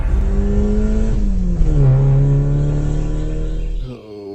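A black car drives off, its engine revving and climbing through a gear change, with a brief tire chirp, then holding a steady drone before cutting away abruptly near the end.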